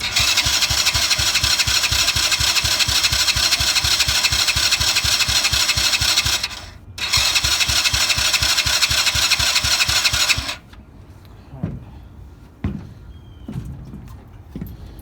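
A Coolster 125 ATV engine with the choke up cranks in a fast, steady chugging rhythm, pauses briefly, then cranks again before cutting off to quiet clicks and handling noises.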